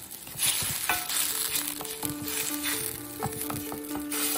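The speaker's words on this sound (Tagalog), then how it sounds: "Pakuluan natin ng 2 minutes." Vinegar sauce for red snapper bubbles and sizzles in a pan with a steady, close crackle, while a utensil stirs and scrapes now and then.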